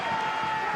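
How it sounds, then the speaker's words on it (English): Rugby crowd at an Edinburgh versus Leinster match cheering as Edinburgh win a scrum penalty, a loud, dense roar filling the stadium throughout the short moment. "That'll get a loud cheer."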